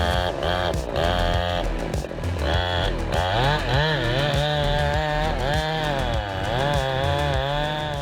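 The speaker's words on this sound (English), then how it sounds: "Careful calculation and skillful use of the chainsaw were the keys to safely felling 2 large Dracaena" A chainsaw fells large Dracaena trees on a high mountain, its engine loud and close, the pitch bogging and surging repeatedly as the chain bites into the trunk.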